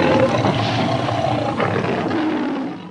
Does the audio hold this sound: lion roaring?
yes